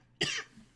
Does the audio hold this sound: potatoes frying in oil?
no